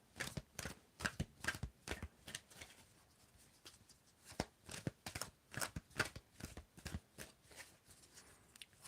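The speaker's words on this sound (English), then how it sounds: "I want you to tell me when to stop shuffling, Torio." Tarot cards shuffled by hand at close range, producing a quiet series of crisp riffling and flicking bursts in an irregular rhythm, with no talking.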